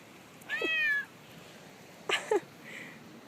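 A cat meows twice, a drawn-out meow followed after a pause by a shorter, broken one, close by in a quiet outdoor setting.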